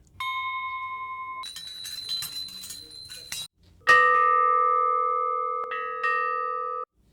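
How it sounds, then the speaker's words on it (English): Several clear bell tones ring out one after another, each sustaining and slowly decaying, interspersed with brief light metallic clinks. "Got some beautiful bell recordings here"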